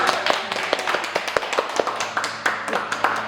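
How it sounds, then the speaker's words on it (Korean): Congregation clapping hands at an afternoon Korean church praise service, a run of sharp, fairly steady claps close by over soft room ambience. "우리는 또 열렬하게 박수 치면서"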